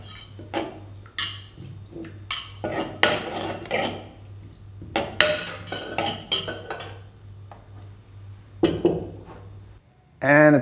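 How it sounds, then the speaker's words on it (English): Herbs for a spicy seafood salad tossed in a bowl, giving light clinks and scrapes of a utensil against the dish in short bursts under ongoing talk, with a steady low hum behind. "We give our herbs a quick mix."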